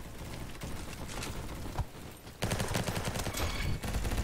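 Pistol gunfire in a shooter video game: loud, dense volleys of rapid shots crackle almost continuously, growing heavier toward the end, with no talking.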